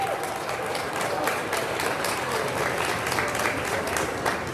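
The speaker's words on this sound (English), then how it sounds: "Let's give them all a big round of applause." An audience applauds steadily throughout, a dense, even wash of clapping at a ceremony, without letup.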